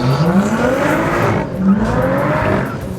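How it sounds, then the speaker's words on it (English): A Lotus Evora S with the sports exhaust system, run on the Lotus test track, roars loud and close, engine note climbing through the gears with a brief dip and a hint of tire noise. "The most audible change is the sports exhaust system, as you can hear here."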